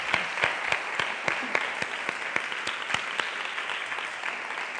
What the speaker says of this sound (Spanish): Me gustaría que le hiciéramos un aplauso por estar aquí esta tarde.